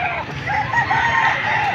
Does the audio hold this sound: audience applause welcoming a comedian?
no